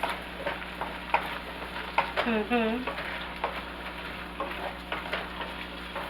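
Stoup ingredients stirred and tossed around in a browning pan, with a steady close sizzle broken by repeated scraping and clattering strokes of the utensil and no speech.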